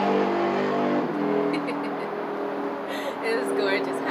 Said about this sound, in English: a lot of traffic sounds around me